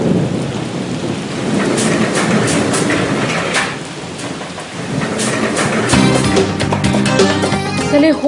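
A heavy thunderstorm pours loud, dense rain, with deep rumbling thunder rolling underneath throughout and a fuller, heavier swell in the latter half.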